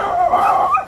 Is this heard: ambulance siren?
no